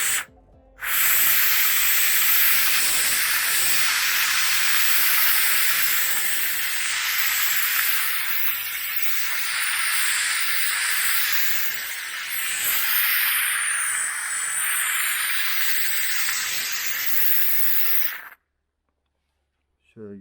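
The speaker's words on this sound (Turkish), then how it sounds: "Buhar uyguluyorum." A loud, steady hiss of steam runs for most of the clip, then cuts off abruptly near the end.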